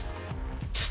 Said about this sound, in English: gonna spray a little bit of this dirty spray to give it a bit of hold